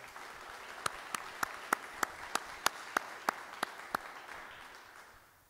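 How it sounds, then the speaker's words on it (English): An audience applauds Old Guard soldiers of the 3rd U.S. Infantry Regiment at a ceremony, with about twelve sharp, evenly spaced claps standing out over a soft, steady wash of clapping that fades away at the end. "how about a round of applause?"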